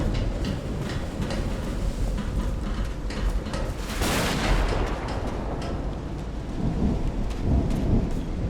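A thunderstorm in the game Call of the Sea: steady heavy rain hisses throughout while a loud thunderclap breaks near the middle, followed by low rumbling.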